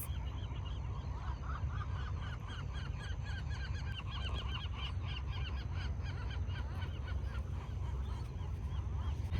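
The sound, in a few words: seagulls calling at nesting colony on Anacapa Island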